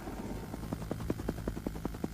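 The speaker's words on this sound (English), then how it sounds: "Waves of Apache gunships arrived and refueled." Apache helicopter gunship with a rapid rhythmic rotor thump, moderately distant and steady, heard over a low engine drone.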